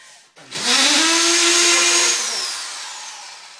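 A power drill whirs against drywall plasterboard, one sustained close, loud run of about two seconds that winds down, with no talk.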